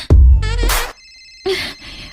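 A mobile phone ringing: loud electronic tonal bursts and a melodic ringtone phrase, then a gap and two more brief tonal bursts, all close and clear with no talking over it.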